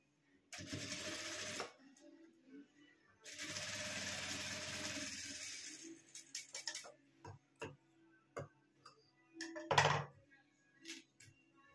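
A sewing machine stitches a small pouch in two sustained whirring runs, then gives a series of short, separate clicks and taps from the machine and handling. The sound is close and fairly quiet.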